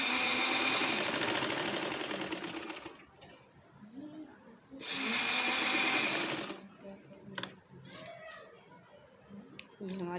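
A sewing machine stitches gum lace onto a kameez in two loud bursts of steady whirring, running about three seconds, pausing, then running again for nearly two seconds, with quieter handling noises and brief clicks between.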